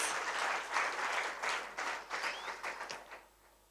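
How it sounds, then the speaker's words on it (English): Audience applause for the jury at an awards evening honoring women, a fairly soft burst of many hands clapping that swells briefly, then thins into scattered claps and fades out. "Can we give our jury a big round of applause?"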